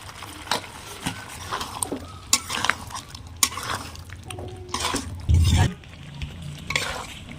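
Kashmiri potatoes for aloo dum fry in a pan with a splash of water as a spoon stirs and scrapes. Scattered clinks and scrapes sit over a soft sizzle, with a brief louder burst near the end.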